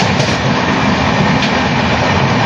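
Santragachi–Jabalpur Humsafar Express running, a loud, steady broadband roar of the train in motion, heard close up with no voices.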